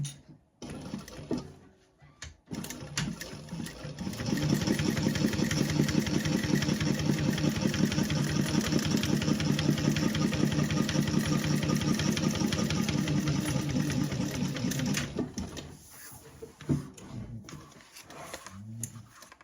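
Sewing machine running steadily for about ten seconds while top stitching a seam on a slip pocket lining, a fast even mechanical chatter with motor hum, preceded and followed by brief handling noises.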